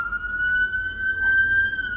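A loud street siren holds a steady, high wailing tone throughout, with faint traffic rumble beneath it.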